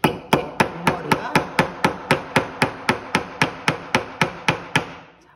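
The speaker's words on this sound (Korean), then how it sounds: "한 손으로는 못을 잡고 망치를 다른 손에 잡은 상태에서 못머리를 때려서" Steady, evenly spaced hammer blows drive a nail while building a hydroponic plant pot, about sixteen sharp, ringing strikes close by with no talking.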